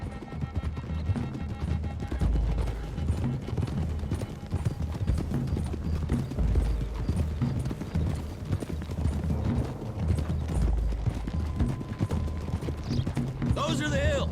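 Steady clip-clop of several horses trotting in the video game Red Dead Redemption 2, continuous and fairly close, with a voice talking over the hooves and faint ambient music underneath.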